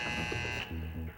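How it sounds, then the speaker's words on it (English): A gym buzzer at a college sports event sounds as a steady, loud electronic tone that stops about halfway through, followed by lower droning hum and faint crowd noise. "the buzzer"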